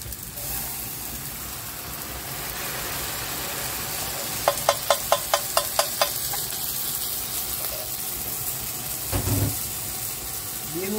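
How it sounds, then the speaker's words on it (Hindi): Hot yakhni stock is stirred into Afghani pulao rice in a pan, producing a loud, steady sizzling hiss throughout, with a quick run of sharp metallic taps midway and a low scrape near the end. "ये मैं इसमें मिक्स कर रही हूँ।"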